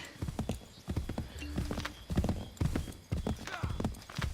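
Hooves clip-clop at a gallop with a whinny from a horse in the Assassin's Creed 3 video game, close and fairly loud, with someone talking over the hoofbeats.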